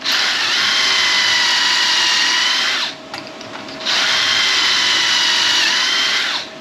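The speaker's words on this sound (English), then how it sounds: "Drill this one." A power drill whines loudly and steadily, stops briefly for about a second, then runs again at full speed before cutting off, drilling during a camper conversion rebuild.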